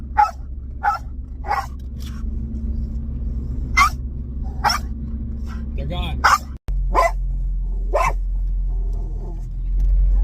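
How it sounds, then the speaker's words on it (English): Sharp, repeated dog barks ring out from inside a moving car over a steady engine rumble, with a person speaking briefly near the end. "What are you barking about?"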